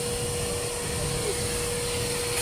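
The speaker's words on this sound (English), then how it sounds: "every place you can clean with the vacuum cleaner" Vacuum cleaner at a self-service car wash, a loud, steady whine and airy roar running continuously without pause for the whole short stretch.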